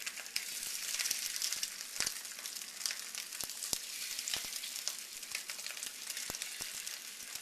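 Beef pieces fry in oil in a large jumbo fryer pan, giving a bright, continuous crackling sizzle dotted with sharp pops and spits throughout, with no voices.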